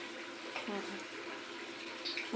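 Tap water runs into a drinking glass in a steady, splashing stream, fairly close and continuous for a couple of seconds, with a faint voice in the background.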